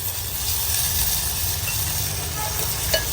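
Water is poured into a hot clay pot of sautéed green chickpeas on a wood-fired stove, producing a continuous close hiss and soft steamy sizzle with a small clink near the end.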